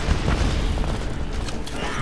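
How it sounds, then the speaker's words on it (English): A Hellfire missile strike in the shooter game Homefront sets off a loud, deep, rumbling explosion that fills the whole clip with a dense boom and debris crackle. "I'm trying to go for the Hellfire missiles here."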